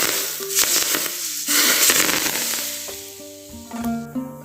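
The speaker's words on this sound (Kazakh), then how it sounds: "Қатты қызып тұрған сұйық майды чесноктың үстіне құямыз." Very hot oil poured over garlic for a quick salad bursts into a loud crackling sizzle that gradually fades into quieter spitting, close up and without talking.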